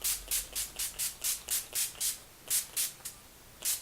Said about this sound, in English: I just spray a bunch of sprays around my face